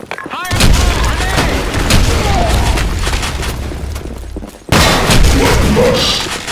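Grenade blasts in the video game BlackShot: loud, dense booming explosions and crackling gunfire filling the clip, with a brief drop in the middle before another loud burst, and voices calling out over the din.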